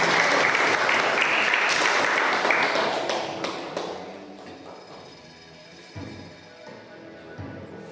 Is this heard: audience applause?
yes